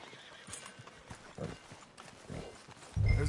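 A horse in the Red Dead Redemption 2 video game clip-clops at a trot with scattered hoof beats, then lets out a neigh, the sounds moderately close with a louder thump near the end.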